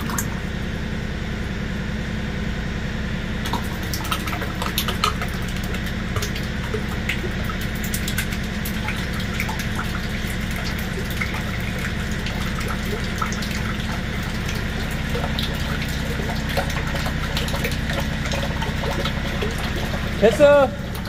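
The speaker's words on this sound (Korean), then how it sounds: "어우, 펌프 압력이 좋은데 아주." A liquid pump pushes oil steadily during a hydraulic and transmission oil change on a Daedong CK360 tractor, a continuous watery rush under a running engine with faint talk.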